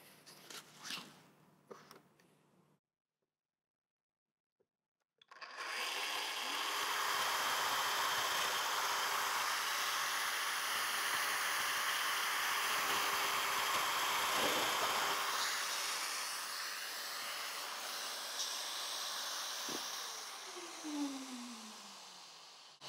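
A cordless Festool Domino DF 500 joiner cuts mortises in a row. After a few faint knocks and a short silence, a long, steady whirring cut follows at moderate loudness, close by and with no talk.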